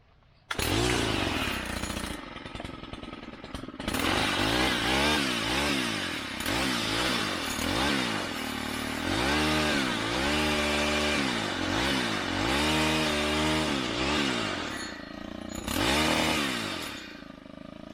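A Stihl string trimmer's small two-stroke engine starts and runs loudly, its buzzing pitch rising and falling repeatedly as the throttle is revved, with brief dips between bursts.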